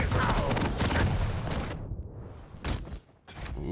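Rockets and a lightning gun fire in a Warsow duel: a dense, steady stream of rapid shots and blasts. Sharp explosions punch through, and the firing drops out briefly before resuming.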